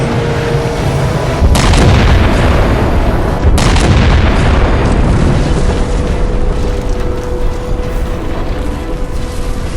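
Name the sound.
ship cannon firing explosion in Halo video game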